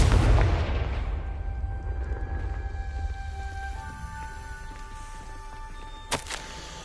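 A Confringo blast spell in a Harry Potter video game bursts in with a loud, booming explosion at the start, decaying into a long rumbling tail with lingering tones and a sharp crack near the end.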